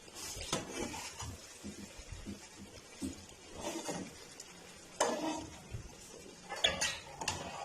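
Fried pieces are turned over in a pan on a griddle with a few soft scraping knocks and light clinks, separated by quiet gaps over a faint sizzle.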